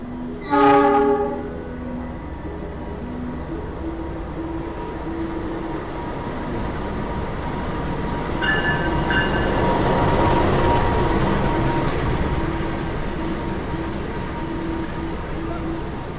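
The Argo Dwipangga passenger train sounds its horn briefly while arriving at track 5 of a station, then a steady rumble of rolling rail cars and station noise continues, with voices faintly underneath.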